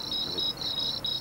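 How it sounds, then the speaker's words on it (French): Cicadas sing on a summer afternoon in Provence near Valréas, a steady, bright, close buzzing chorus pulsing in short waves with no voices. "mais les cigales chantent encore."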